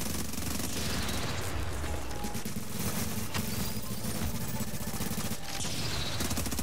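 Rapid bursts of automatic gunfire in The Division crackle continuously, mixed with booms and game sound effects, fairly loud with no clear talking.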